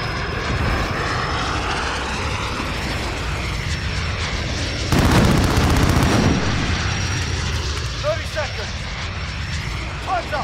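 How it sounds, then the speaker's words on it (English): A VTOL jet in a shooter video game's search-and-destroy match roars loudly overhead, swelling into a louder burst midway amid faint gunfire, with a steady engine drone throughout. "That VTOL jet came in handy."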